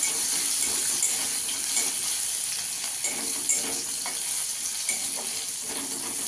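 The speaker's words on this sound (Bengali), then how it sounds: "রসুনটাকে একটু ভালো করে ভেজে নিতে হবে" Crushed garlic fries in a pan, a constant close, bright sizzle with light stirring scrapes and small crackles throughout, no talking over it.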